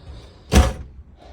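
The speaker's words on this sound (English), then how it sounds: "just jump in and shut the door." A Chausson Welcome 55 motorhome door swings shut with one solid, close slam and a brief rattle, then a quiet interior.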